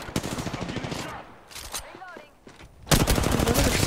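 Gunfire rattles in the Apex Legends battle royale game as rapid bursts of shots, loud and close, broken by a short lull before a heavy final volley.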